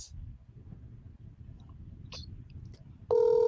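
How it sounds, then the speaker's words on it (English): Telephone call tone heard while waiting for someone to answer a call, a steady loud electronic ring tone starting near the end after a stretch of low background rumble. "let me see if he's going to pick the call"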